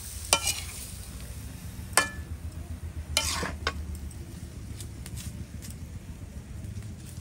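Curry stirred and sautéed in a pan gives a quiet, steady sizzle broken by a few scraping knocks of a spoon against the metal, with no talking heard.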